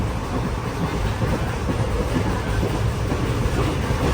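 A passenger train on the Madurai to Bodinayakkanur line runs at speed, giving a steady, close rumble and rattle of carriages on the track that stays even throughout.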